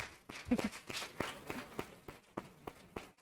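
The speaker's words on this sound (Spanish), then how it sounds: "lo que procede es despedir con un fortísimo aplauso a Marta Martínez Novoa" An audience at a book talk sends off author Marta Martínez Novoa with applause, heard as scattered, fairly faint clapping with a few sharper claps, thinning out unevenly rather than building into a roar.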